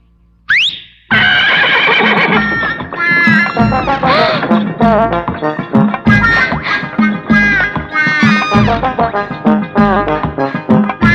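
A horse lets out a loud, close whinny, followed by repeated snorts and neighing calls over musical accompaniment, after a short whistle at the start.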